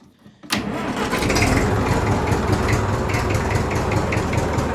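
A Massey Ferguson 65 tractor engine cranks and fires up abruptly after a brief quiet moment, then settles into a loud, steady, throbbing diesel idle close by.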